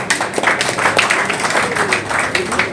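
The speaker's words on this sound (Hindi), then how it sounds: "मैं चाहूंगा उसके लिए सब लोग जोरदार तालियां बजाएं" People gathered at a community meeting in Preet Vihar clap vigorously together, a thick, continuous burst of applause that stays busy and fairly loud for the short stretch.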